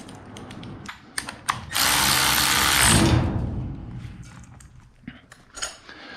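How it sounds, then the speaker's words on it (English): A nut being tightened on a garage door track with a 9/16 tool gives a loud close mechanical whirring burst of a couple of seconds, with scattered clicks and clanks before and after. "Take a 9/16 and tighten that baby down."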